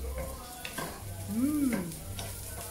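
Soft sizzling and stirring of vegetables in a pan, a steady low hiss with faint scraping, close by and without talk.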